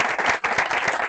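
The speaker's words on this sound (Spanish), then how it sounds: "aplauso." Audience applause at a poetry event honoring poet Fernando Mansilla, a dense, steady burst of many hands clapping close and loud for about a second, with a brief dip midway.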